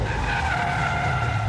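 A Maserati Quattroporte's tires skid and squeal while it drifts sideways on a race track. A sustained, loud screech rides over the engine's roar for the whole moment.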